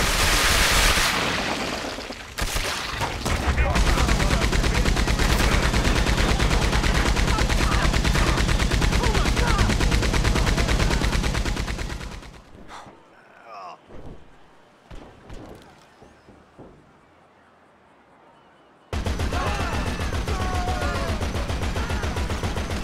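Heavy gunfire from a video game, either GTA 5 or Red Dead Redemption 2, roars in dense rapid bursts for about twelve seconds, drops to scattered quieter shots and rumbles, then returns loud near the end.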